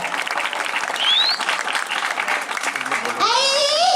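A crowd at a Balinese temple ceremony applauds, a dense clapping wash with voices and child chatter mixed in, ending as a rising whistling or tonal sound cuts across the clapping.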